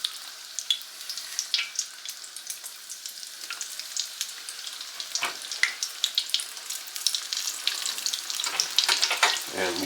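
Biscuit donuts frying in hot grease, a steady crackling sizzle with dense bubbling pops building slightly louder toward the end, heard up close with no talking.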